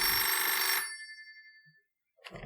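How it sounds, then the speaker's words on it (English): A telephone bell rings loudly and sharply, then fades into quiet before a brief voice is heard. "That's the phone. It's the phone?"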